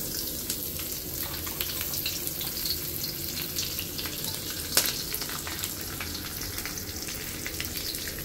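Chopped onions sizzle steadily in hot oil for a bachelor-style biryani, a constant close crackle with a few sharp pops and clicks, no voices.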